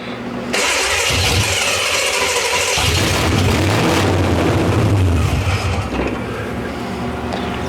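An old Chevrolet Monte Carlo engine cranks and catches, then roars and revs loudly at close range, rumbling unevenly as the revs rise and fall.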